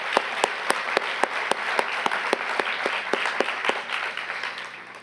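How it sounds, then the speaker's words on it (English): Audience applause for panelists at the 36th Annual Marion Thompson Wright Lecture, a steady crowd clapping with crisp individual claps standing out, gradually thinning toward the end. "Can we give them another round of applause for this morning?"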